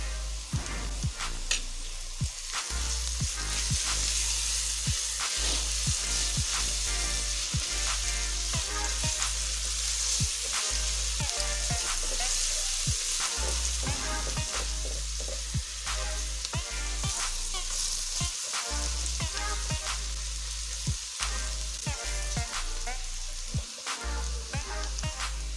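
Ginger-garlic paste frying in hot oil for pea pulao, a steady dense sizzle with occasional stirring scrapes, close and continuous throughout with no talking.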